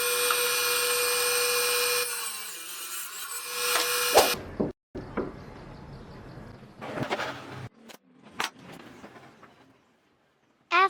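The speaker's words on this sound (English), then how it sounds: "used a cutting machine to cut them accordingly" A cutting machine saws through wooden columns for a small dog house, starting with a loud steady whine that cuts off abruptly, followed by irregular rasping and scraping bursts with gaps of near silence.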